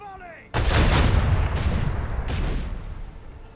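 In Warhammer 40K Rogue Trader, a macro cannon volley erupts in a sudden loud barrage of heavy booming blasts, several overlapping impacts rolling over a few seconds as a rumbling tail fades.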